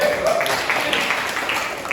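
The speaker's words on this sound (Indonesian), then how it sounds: "silakan berikan tepuk tangan" Audience applause at a formal presentation event, a steady dense wash of clapping that fills the whole moment with a possible murmur of voices mixed in.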